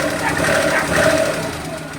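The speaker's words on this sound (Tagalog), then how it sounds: "Ayan, palyado." A Suzuki Multicab F6A mini van engine with low power runs rough and misfires. It gives a steady, uneven knocking chug close by for the whole stretch, with no clear speech.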